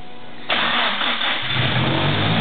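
A fully built turbocharged Nissan SR20DET swapped into a 350Z cranks and fires up loudly, then settles into a rough, steady idle with a deep rumble close by.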